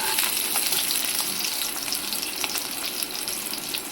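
Karonda (vakkaya) paste frying in oil in a pan, a steady close sizzle with occasional stirring scrapes and crackles.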